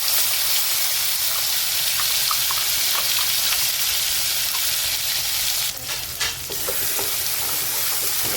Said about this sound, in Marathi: आता मोहरी ना तेलामध्ये चांगली तडतडली